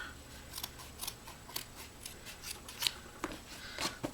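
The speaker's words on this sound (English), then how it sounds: "So I'm just going to cut this one up again." Scissors snip through a wipe in a series of crisp, close, separate cuts roughly every half second against a quiet background.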